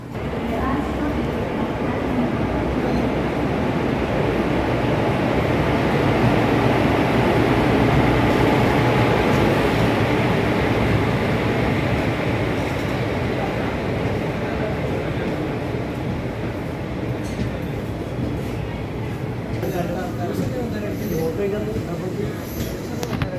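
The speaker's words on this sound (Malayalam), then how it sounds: "നമ്മുടെ ട്രെയിൻ അങ്ങനെ വരാൻ പോകുന്നു." A train's steady low rumble fills a station, loud and continuous, with people talking faintly underneath.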